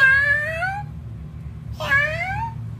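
A cat meows twice, each call a drawn-out, rising-and-falling wail, close and clear over a low, steady background hum.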